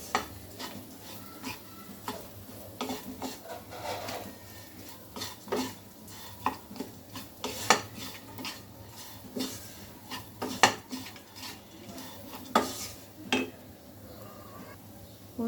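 A spoon stirs a lentil dal chorchori with salt and turmeric in a pan, giving repeated clinks and scrapes against the metal over a faint sizzle, close and irregular, without talking.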